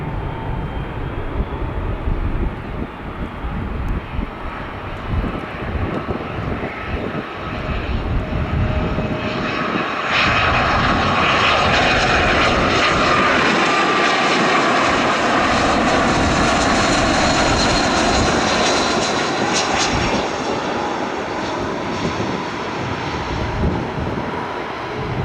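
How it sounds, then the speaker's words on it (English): A United Airbus A319 jet airliner at O'Hare International Airport roars past, its engine noise building to a loud, broad sustained rush and then easing as it moves away. "And then it was right back to United with another A319."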